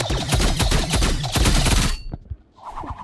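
Energy rifle and energy pistol fire in the shooter game Rivals: dense, rapid bursts of automatic gunfire for about two seconds, loud and continuous, then breaking off into quieter game effects.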